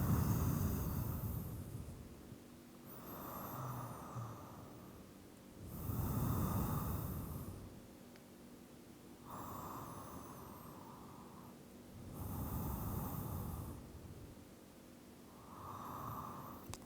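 Slow, deep breaths during a calm yoga practice: three or four long, airy inhale-exhale cycles, each a soft rushing swell spaced a few seconds apart, close and quiet with nothing else around them.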